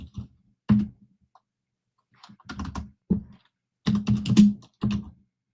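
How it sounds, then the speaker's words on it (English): Loud computer keyboard typing, clattery bursts of quick key presses separated by brief pauses, close and crisp against near silence. "Wait, is your keyboard a typewriter? That thing is loud."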